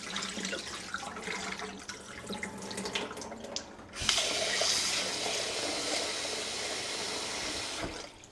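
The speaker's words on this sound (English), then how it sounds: "I'll probably just rinse it one more time." Tap water running into a bowl of basmati rice being rinsed, a continuous splashing flow that swells louder halfway through and stops near the end, with no talking.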